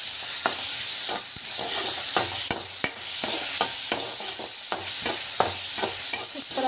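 Soup mixture sautéing in a pan, a steady sizzling hiss broken by repeated clicks and scrapes of a spoon stirring, close and fairly loud with no talk.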